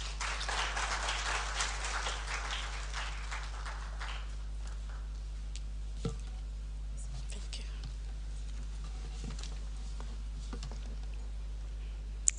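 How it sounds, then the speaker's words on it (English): An audience claps at a swearing-in ceremony for security chiefs in Ghana. The dense patter fades out over the first few seconds and leaves a quiet hall with a low hum and a few small knocks. "A round of applause, please."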